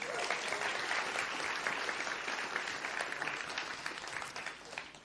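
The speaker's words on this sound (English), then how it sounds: "Can I get a big round of applause for Aline, Maaike, and Caroline?" An audience at an award ceremony for a food systems innovation challenge breaks into steady, dense clapping that holds for several seconds and then thins slightly, heard at a moderate distance with no talk.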